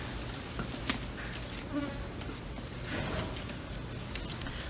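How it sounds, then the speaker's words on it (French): Bees buzz around outdoors, a hazy drone with individual insects passing nearby, faint against a steady low background hum. "il pouvait y avoir des abeilles qui allaient piquer"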